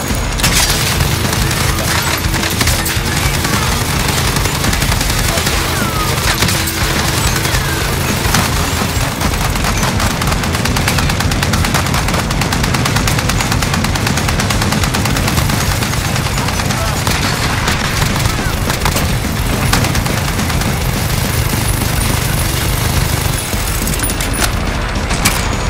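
An armored truck's mounted machine gun fires nonstop in Call of Duty Warzone, a loud, unbroken stream of rapid shots and booms across the whole stretch, with faint voices buried underneath.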